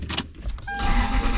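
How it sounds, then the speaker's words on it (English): Power window motor whirring on a 2000 Lexus LX470 with high mileage and a rusty frame, a short steady electric hum rising after a few brief clicks, close by. "Look at that, power windows work."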